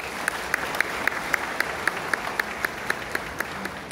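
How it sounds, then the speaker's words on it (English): An audience at a peace convention gives dense, sustained applause, with a regular bright tapping repeating through the clapping. "Please give her a round of applause"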